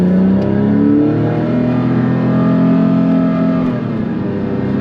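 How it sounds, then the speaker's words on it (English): A Porsche 997.1 Carrera S with Tiptronic-S automatic transmission drives past vineyards, its engine droning loudly and steadily from the cabin as the pitch shifts with a downshift. "Again, downshifting now because I'm going through Arrington Vineyards here."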